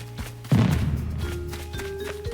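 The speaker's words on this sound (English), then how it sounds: "I kinda like those fireworks, the ones that, like, streak down." A single firework in the video game Animal Crossing: New Horizons bursts with a close, heavy thud, followed by a fading crackling tail under steady in-game background tones.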